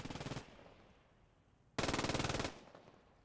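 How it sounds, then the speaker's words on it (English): Mortar fire in the World War II game Post Scriptum, heard as two loud, rapid bursts of dense impacts, the first brief and the second lasting under a second, with quieter rumble between them. "That was actually very accurate mortar fire there."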